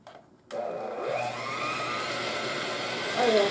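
An electric mixer whipping toasted coconut pineapple Cool Whip starts abruptly after a quiet moment, then holds a steady loud motor drone with a rising whine toward the end.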